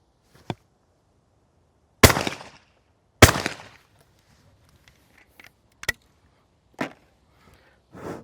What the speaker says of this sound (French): je tire systématiquement les 2 coups pour voir si tout fonctionne